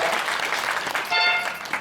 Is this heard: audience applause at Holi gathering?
yes